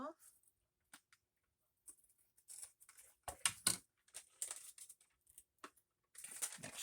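Scissors snip through a paper envelope pocket in a handful of short, crisp cuts, close and fairly quiet, with brief pauses between bursts and no talking.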